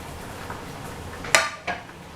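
Two quick metallic clanks ring out close by as vegetables go into a pan for coconut fried rice, a loud knock followed by a softer one over quiet kitchen background.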